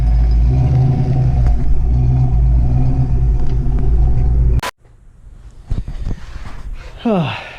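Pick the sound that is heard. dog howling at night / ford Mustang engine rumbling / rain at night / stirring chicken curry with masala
ford Mustang engine rumbling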